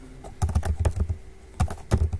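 Rapid bursts of keystrokes on a computer keyboard as code is typed, clustered clicks with short pauses between runs, close and clear with no talking.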